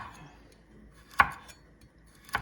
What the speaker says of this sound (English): I like some carrots, and I'm going to just do what we call a roll cut.